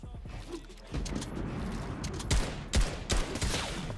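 Sniper gunfire in the video game Bio Zone Wars: a few sharp, loud shots spaced about half a second apart over a steady game background, with no talking.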